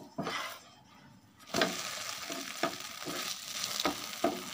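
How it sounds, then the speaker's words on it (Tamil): A dosa cooks on a dry pan without oil, giving a soft hiss and crackle with several sharper scraping and flipping taps spread across a few seconds, close and fairly quiet. "தோசை நம்மளுக்கு ஆயில் போடாமல் போட்டுக்கிறோம்"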